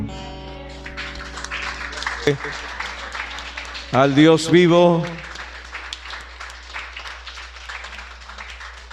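A church congregation applauds in a steady, diffuse clatter of many hands, with a voice briefly calling out over it and strong sung or shouted tones near the middle.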